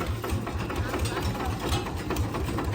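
A small Golden Bow engine idles steadily nearby, a rapid regular chugging pulse with a rattly mechanical buzz, loud and continuous.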